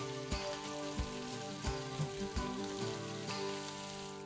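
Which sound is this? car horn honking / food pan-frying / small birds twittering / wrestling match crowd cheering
food pan-frying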